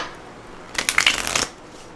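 A brief riffle of tarot cards being shuffled, a quick fluttering burst lasting under a second, close and clear against a quiet background.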